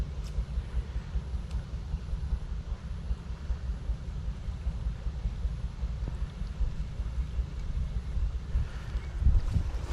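Wind blows steadily over a coconut plantation during snakehead fishing, a low, continuous rumbling buffet of air that stays fairly quiet throughout with no one speaking.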